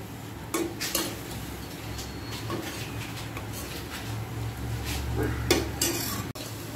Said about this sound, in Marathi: तांदळाची कणिक आहे ती आता घालते आणि छान मिक्स करून घ्यायची